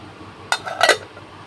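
Plates and utensils clink while rice is served, two quick clusters of bright clatter close by over a quiet room hum.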